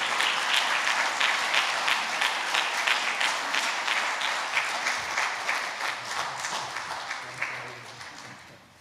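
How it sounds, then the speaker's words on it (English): A school assembly audience gives a sustained round of applause for a guest receiving a plaque at a primary school's final assembly, steady and dense clapping that slowly thins and fades toward the end. "Let's give him a big round of applause."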